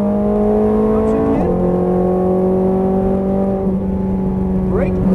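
Ferrari F430 Scuderia engine on a race track, droning steadily with sustained harmonic tones that drop in pitch at shifts and a quick rising rev blip near the end, with a driving instructor talking over it.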